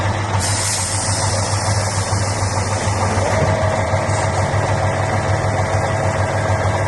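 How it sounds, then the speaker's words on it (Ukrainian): A truck's diesel engine idles with a deep, steady rumble and vibration while the hydraulic dump body lifts smoothly, a faint mechanical whine riding over the constant engine drone, with no talking. "Подйомний механізм гідравліка. І, Як бачимо, подйом кузова впевнений, працює плавно, без ривків."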